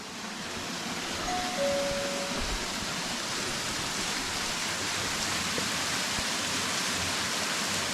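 Doña Elba waterfall in the Altas Cumbres of Córdoba roars as a dense, steady wash of falling water, loud and unbroken throughout, with a faint brief tone near the start.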